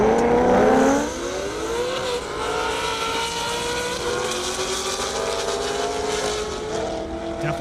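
A Corvette Z06 in an airport drag race, its engine roaring loudly and sweeping up through the gears as it accelerates, heard steadily for several seconds alongside other engine noise.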